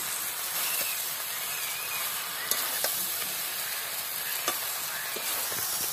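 Half-ripe jackfruit curry sautéing in a pan, a dense, even hiss of frying with only a few faint stirring knocks, close and continuous, no voices.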